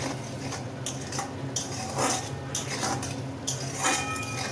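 Potatoes, tomato and spices being stirred in a pan for a Bengali rui fish and potato curry, giving steady scraping and clinking of a utensil against metal with soft sizzling underneath, close and continuous with no talk.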